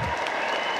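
A crowd at a political rally for a birthday celebration claps in dense, sustained applause, loud and steady throughout the brief moment.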